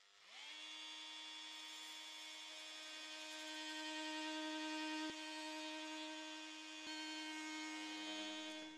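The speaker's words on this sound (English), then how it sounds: "we cut it with the oscillating multi-tool" An oscillating multi-tool cutting through an acrylic tube held in a wooden jig with clamps; a steady, loud high-pitched buzzing whine that spins up quickly, holds, briefly catches twice, and winds down at the end.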